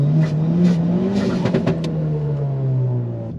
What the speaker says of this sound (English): That was a pretty good burnout